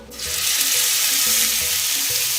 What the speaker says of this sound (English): it's already smoking a little bit. Which means it's just about ready for our sear